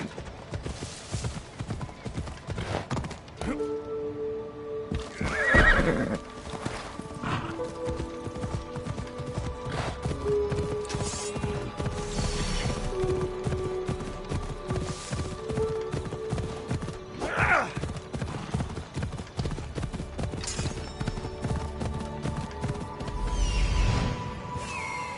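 Horses clip-clop steadily and neigh now and then in a PS4 video game, hooves close and rhythmic over a layer of game sound effects and music for about twenty-five seconds.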